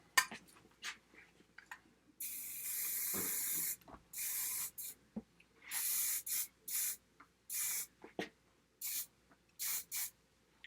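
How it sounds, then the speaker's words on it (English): Hairspray is sprayed onto freshly flat-ironed hair in a series of short hissing bursts, close and loud, some quick and some held for a second or two, separated by quiet pauses with faint handling noise. "I'm going to grab a little hairspray."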